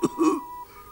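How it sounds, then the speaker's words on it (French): A teddy bear puppet in a French children's bedtime show gives one brief, near, throaty cough or throat-clear, alone with no talk. "Mais tu tousses? Oui, je tousse."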